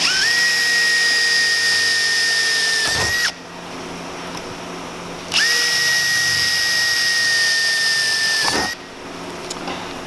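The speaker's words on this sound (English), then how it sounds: "while I drill those holes" Close, loud power drill whining steadily in two long bursts with a brief pause between them, drilling pilot holes for a fan install.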